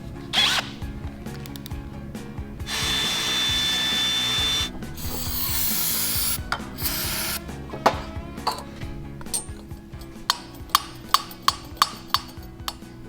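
Reamer working metal on an overly tight sand rail part, a steady rasping, scraping sound in long strokes that gives way to a run of sharp clicks and taps toward the end, close and fairly loud with no talking.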